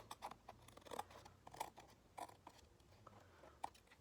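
Scissors snipping out a paper picture for a mixed media collage, about half a dozen soft, separate crisp cuts spaced irregularly, close but very quiet, with no talking.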